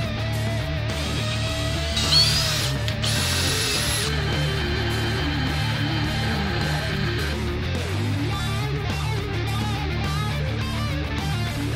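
A lathe turns spacer bushings for joining two plates, a steady machine hum with a whirring tone and brief high-pitched whining tool contact early on, continuing evenly alone.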